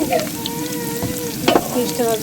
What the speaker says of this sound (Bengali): পোলাওর জন্য তেল দিয়ে পেঁয়াজ ভাজা হচ্ছে